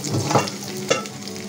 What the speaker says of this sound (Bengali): এখন কুচি করে রাখা পেঁয়াজগুলো দিচ্ছি।